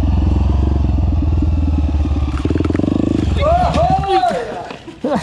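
Dirt bike motorcycle engine after being flooded in water, running with a loud, close, rough pulsing rumble that falters and sputters, while a person speaks over it.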